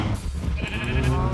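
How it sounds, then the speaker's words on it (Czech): Sheep in modded Minecraft, set up for automatic shearing, bleat in a short run of wavering, nasal cries, close and fairly loud over a busy game backdrop. "Tady jsou teda ovce automaticky stříhané."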